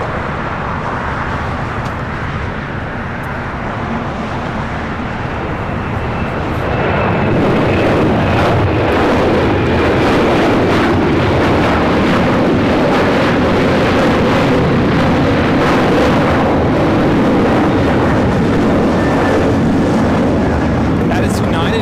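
A China Southern Cargo Boeing 777 freighter takes off at LAX. Its jet engines swell from a distant rumble into a loud, sustained broadband roar that holds steady to the end.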